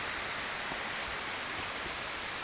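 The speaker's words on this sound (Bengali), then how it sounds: "ঝরাঝরি ঝর্ণার উপরে উঠছি।" A waterfall on the Napittachhara trail roars in a steady, dense, close rush of falling water that fills the whole stretch without a break.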